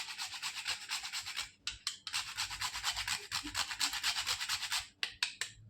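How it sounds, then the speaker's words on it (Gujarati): Whole nutmeg scraped against a grater while making churma laddu, a steady run of dry, rasping strokes with short pauses near the middle and a few quick final scrapes, close and fairly loud with no speech. "તમારે થોડુંક જાયફળ ખમણી લઈએ."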